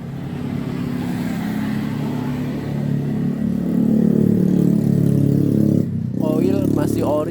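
Motorcycle engine idles steadily, a close, loud, even mechanical hum that swells slightly before cutting off, after which someone talks.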